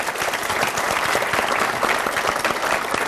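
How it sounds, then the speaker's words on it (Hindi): A studio audience claps loudly and continuously to welcome an acid attack survivor onto a television stage, a dense, even wash of many hands close by with no break. "तालियों से स्वागत कीजिए लक्ष्मी का।"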